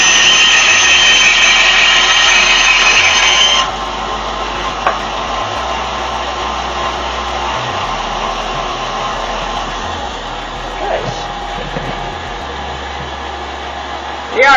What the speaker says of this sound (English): now I'll show you guys how I'm actually going to do it on my bandsaw. I'll cut the shape out.